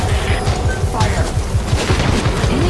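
Rapid gunfire in the stealth action game Metal Gear Solid V: The Phantom Pain, a dense loud barrage of booming shots and low thuds repeating steadily throughout, with faint game voice audio underneath.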